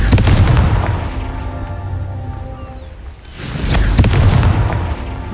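A Confringo fire spell explodes in Hogwarts Legacy, with loud booming blasts and crackling bursts at the start and again after a brief lull, heavy low rumble throughout.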